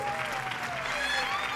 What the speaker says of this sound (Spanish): Y ahora les pido un aplauso para nuestro modelo, Sebastián.